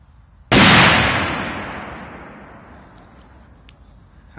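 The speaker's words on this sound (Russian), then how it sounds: "Отличный мощный взрыв." A Thunder King firecracker goes off in one sharp, very loud bang after a moment of silence, its blast ringing out and slowly fading over the next few seconds.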